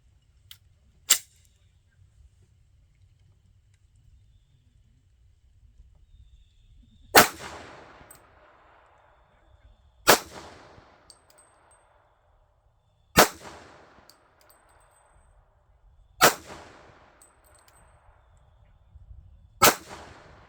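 Six sharp SIG P250 pistol shots with 1776 ammunition, double-action trigger, ring out one by one: a single crack, a pause, then five evenly spaced reports about three seconds apart, each with a short metallic echo tail.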